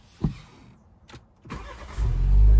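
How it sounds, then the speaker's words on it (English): A BMW X3 engine cranks and catches after a couple of faint clicks, then settles into a loud, steady low idle near the microphone, with no talk. "You can still start the car"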